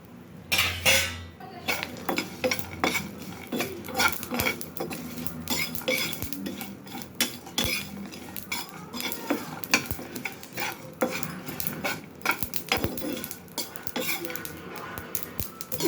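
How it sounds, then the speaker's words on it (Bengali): A spatula scrapes and clinks against a dry wok while stirring dry spices and nuts such as coriander, fennel, cumin, dried chillies, cardamom, almonds, cashews, peanuts and melon seeds, making irregular close metallic scrapes and taps; a voice talks intermittently. "একটু শুকনো কড়াই নেড়ে নেব।"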